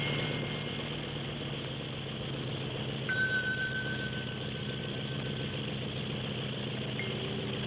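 A small model airplane motor drones steadily in flight, an even, buzzing hum that holds for several seconds with a thin whistling tone joining partway through.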